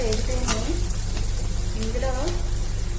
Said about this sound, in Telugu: ఇందులో ఉల్లిపాయలు పచ్చిమిరపకాయలు వేసుకుని బాగా వేయించుకోవాలి